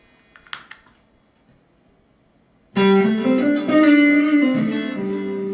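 After a few soft clicks and near-silence, a clean electric guitar with no overdrive rings out loudly, sustaining a bending lead phrase for about three seconds with nobody talking.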